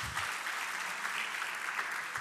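Sustained audience applause fills a hall after a performance at an awards-style stage event, steady dense clapping throughout without a break.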